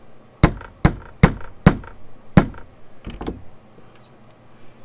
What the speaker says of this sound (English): as I tap down on this retainer